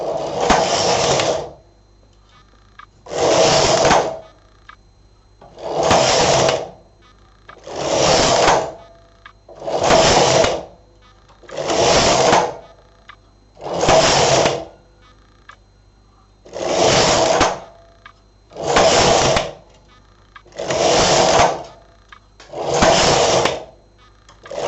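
An SK 280 knitting machine carriage slides across rows again and again, each pass a loud mechanical whirring sweep of a second or two separated by short quiet gaps, about a dozen passes in steady rhythm, close up.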